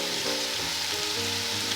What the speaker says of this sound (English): and just let those kind of simmer for a little bit and shrink in size.